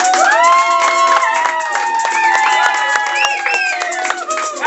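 A live audience cheers, whoops and applauds at an improvised verse performance, a dense, loud burst of many voices and clapping carrying steadily through the whole stretch.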